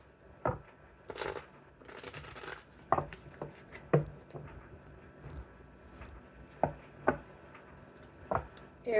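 Tarot cards are shuffled by hand in a quiet room, giving sparse, irregular papery taps, riffles and sharp clicks close to the microphone.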